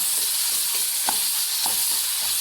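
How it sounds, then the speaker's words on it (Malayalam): Ripe tomatoes sautéing in a pan for a Saravana Bhavan style tomato chutney, a steady close sizzle with a couple of brief scraping stirs, no voices. "രണ്ട് തക്കാളി ഇട്ടൊന്ന് വഴറ്റിയെടുക്കാം"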